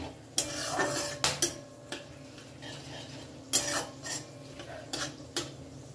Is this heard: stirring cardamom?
yes